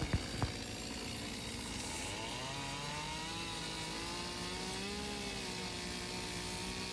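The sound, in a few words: chainsaw carving a wooden bear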